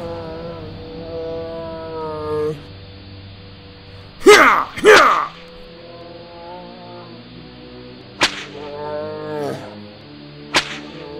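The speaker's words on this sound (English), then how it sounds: "now I'm going to have to get my whip out again." A whip cracks near a circus in a railyard story: two heavy snapping bursts, then two thinner, sharper cracks later. Drawn-out lowing, animal-like calls rise between them over a low steady rumble.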